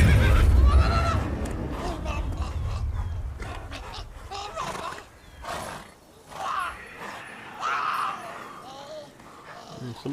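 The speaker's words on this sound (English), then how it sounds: "There's something going on with that horse." A horse whinnies loudly, followed by several softer snorts and neighs spaced apart, set against a synthetic, game-like ambience, in The Witcher 3: Wild Hunt.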